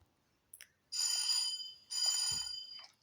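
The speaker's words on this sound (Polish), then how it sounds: "O, dzwonek." An electronic school bell rings in two loud, sustained bursts of about half a second each, separated by a short gap, with a faint brief thump between them and otherwise near silence.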